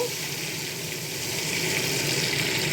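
Chopped onions, green chilies and nigella seeds fry in hot oil in a kadai, giving a steady, fairly loud sizzling hiss that runs unbroken throughout with no voices.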